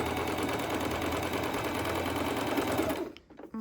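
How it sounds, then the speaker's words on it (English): A sewing machine runs a straight stitch with a steady, close, fast mechanical whirring and ticking for about three seconds, then stops abruptly, leaving a faint, quiet tail. "So I have it on a straight stitch, and I'm just going to sew."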